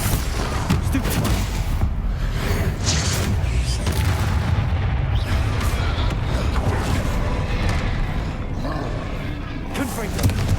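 Explosive spell blasts from Confringo and Bombarda in the Hogwarts Legacy video game, a dense, loud run of booms and crackling impacts with continuous combat noise throughout and a voice calling out over it.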